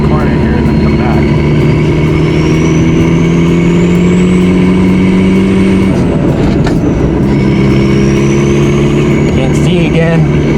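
A 1989 Volkswagen Jetta TD coupe with a diesel engine drives along, its engine drone loud and steady. The pitch climbs and drops between gear changes, and a whine rises above it.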